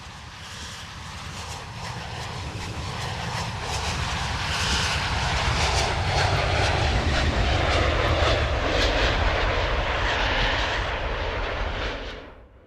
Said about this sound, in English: Here comes the EasyJet.